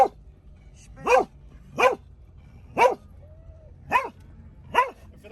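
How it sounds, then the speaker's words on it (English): A dog barks five times, single sharp barks spaced about a second apart, close and loud against a quiet background. "For those who've never heard Bruce barking, this is what he sounds like."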